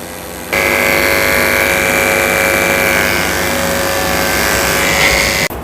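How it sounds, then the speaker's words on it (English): Electric clippers fitted with a 30 blade buzz steadily and loudly as a Goldendoodle's paw pads are shaved during grooming, a constant motor whine that starts abruptly and cuts off at the end, with no talk. "I'm going to go ahead and shave the pads of his feet out with a 30 blade"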